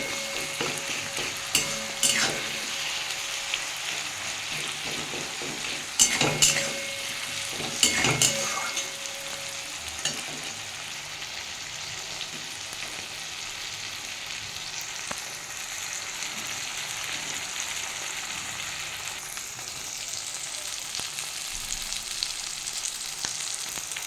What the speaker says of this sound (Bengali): এটা আবার একটু ভেজে নেবো ভালো করে